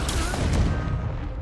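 An Incendio fire spell cast in the video game Hogwarts Legacy: a loud, crackling burst with booming, gunfire-like blasts that fades out within a second and a half.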